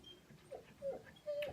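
A dog whimpers softly in short, high whining bursts, about three thin whines spaced across a brief quiet moment, fairly close but faint.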